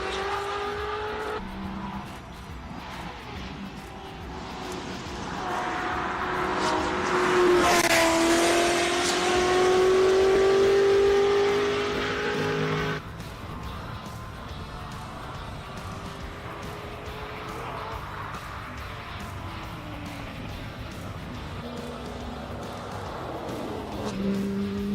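A 1969 Lola race car with a 6.2-litre engine drives on a circuit, its engine note climbing to a loud, rasping peak as it nears and passes, then holding a lower, steadier drone as it pulls away down the track.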